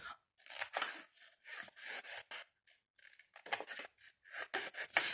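Scissors cut a strip of material at one-centimetre intervals for an advent calendar craft, producing a series of close, crisp snipping and rasping cuts in short bursts with brief pauses between them.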